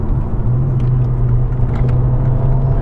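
A Ford Focus RS engine hums and rumbles steadily from inside the car as it is eased onto boost, a sustained low drone with a faint whir and no talking.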